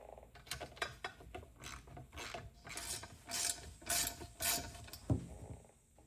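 A ratchet and socket remove the 10mm bolts holding the mass airflow meter housing on a 2003-2004 SVT Cobra Terminator, giving quiet, close bursts of rapid clicking with brief pauses and one small knock near the end.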